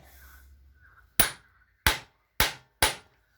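A hammer lands four sharp, separate taps, close and clear, on a small socket as it is seated during an ignition fitting on a moped, with faint low rumble before the first strike.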